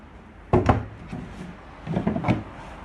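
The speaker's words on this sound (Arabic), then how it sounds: "باب ومجر، باب ومجر" Wooden doors and drawers of a used bedroom set thump and knock closed in a few short, close-up impacts with light rubbing between them, no talking.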